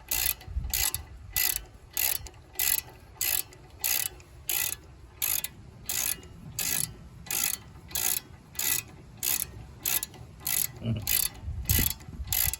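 A ratchet fitted with a 17mm socket clicks in regular bursts, about twenty evenly spaced strokes, close and crisp, while working on the brakes of a 2007 Ford Edge; a few soft clunks sit underneath, with no speech.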